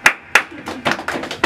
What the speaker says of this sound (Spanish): Y ese aplauso, claro que sí.